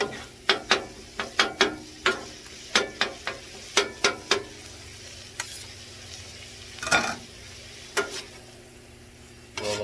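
A metal spatula chops beef and onions on a flat griddle in quick, sharp clacks, some in rapid runs and some spaced apart, over a faint sizzle with no talking.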